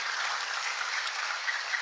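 Audience applause at a Parti Warisan political rally in Sabah, steady hand clapping from a crowd held evenly throughout without talk.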